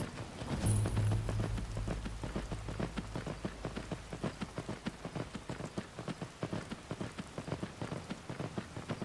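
Rainfall in the Skyrim VR video game, a dense, steady patter of drops at moderate volume with a rhythmic series of soft thuds running through it, and no speech.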